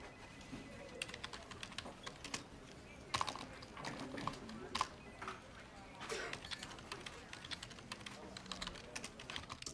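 Quick keyboard typing, quiet and close, with irregular clusters of sharp clicks and a few louder key strikes, while a voice is heard faintly at times.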